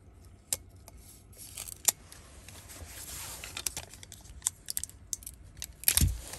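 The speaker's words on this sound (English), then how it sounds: "I think what I'll do is take some scotch tape and put it down like that so it's submerged." Scotch tape is handled, torn and pressed down near an electric whirlpool setup, giving sparse crackles and sharp taps, then a louder burst of rustling near the end, close by with no talking.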